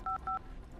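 Phone dialing in the video game The Red Strings Club: three quick electronic keypad tones in a short rhythmic sequence, faint and clean against a low background, with no speech.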